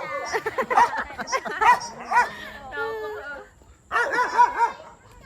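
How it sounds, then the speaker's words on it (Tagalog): A dog barks and yips in quick high-pitched bursts, close by, pausing briefly before another flurry, with people talking over it. "Aso yan nila Maricar."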